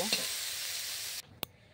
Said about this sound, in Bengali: একটু হলুদ আর একটু লবণ দিয়ে আমি ফুলকপিটা ভেজে নেব।